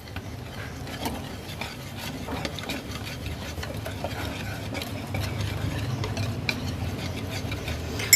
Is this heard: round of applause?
no